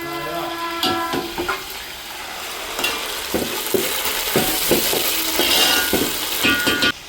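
Tomatoes drop into a pan of frying onions and curry leaves, setting off loud sizzling with repeated scraping and stirring knocks of a spoon against the pan, close by.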